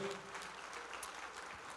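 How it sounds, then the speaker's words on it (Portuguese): A church congregation applauds in the name of Jesus during a sermon, steady and fairly faint clapping that fills the brief clip. "vamos aplaudir mais ao nome de Jesus"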